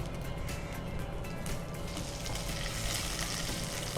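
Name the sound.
curry leaves sizzling in hot oil after mustard seeds splutter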